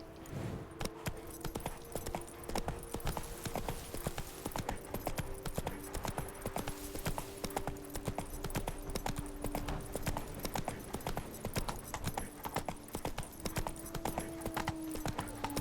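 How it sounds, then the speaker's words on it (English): Horse hooves clip-clop at a steady trotting rhythm in The Witcher 3, close and continuous, with faint game ambience underneath. "Come on, Roach"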